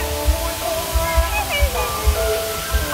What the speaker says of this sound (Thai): นี่คือน้ำตกที่ใหญ่ที่สุดในโลกนะครับชื่อว่าน้ำตกอภิมหาปาดง